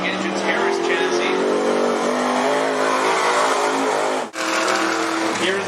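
Race car engines roar at Cottage Grove Speedway during limited sprint and modified racing, a loud, continuous drone with revving swells and a brief dip, under an announcer's voice.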